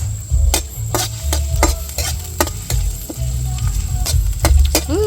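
Chopped garlic and onion stirred in hot cooking oil for ginisang ampalaya, a steady sizzle broken by repeated sharp scrapes and taps of a spatula against the pan.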